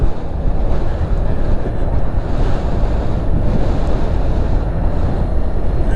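Wind blowing hard across a wildflower field beside the water, a loud, continuous roar buffeting the microphone with no let-up.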